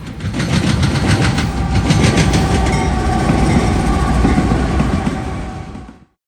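A coal empties freight train led by two GE rebuild locomotives rolls past close by, loud rumbling with rhythmic clickety-clack of wheels over rail joints, steady throughout before cutting off at the end.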